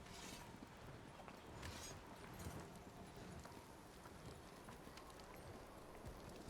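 Steady hoofbeats of a horse in a video game clip-clop at a walking pace, soft and somewhat distant, over a low wash of background noise.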